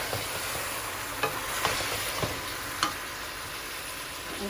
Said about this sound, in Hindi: अब फ्राई कर लेते हैं।